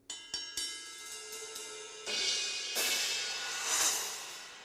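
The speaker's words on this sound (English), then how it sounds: "some gongs or cymbals at the top," Gongs or cymbals mounted atop a drum kit at a school concert: a few quick struck hits, then a swelling, shimmering crash wash that sustains and builds, close and with no talking.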